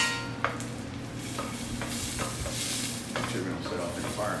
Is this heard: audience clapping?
no